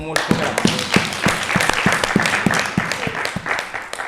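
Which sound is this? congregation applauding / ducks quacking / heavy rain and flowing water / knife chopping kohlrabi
congregation applauding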